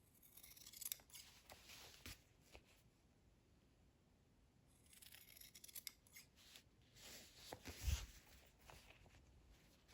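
Scissors trim the corners of a fabric seam allowance on a sewn shirt-dress cuff, giving quiet, close snipping and rubbing sounds in scattered bursts with a couple of sharper cuts.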